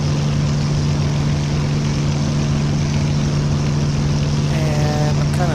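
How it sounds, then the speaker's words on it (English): A WWII Messerschmitt Bf-109 propeller engine roars at full throttle in Flight Simulator X, a loud, steady droning hum that holds constant throughout without pause. "So let's give her a little bit of full throttle."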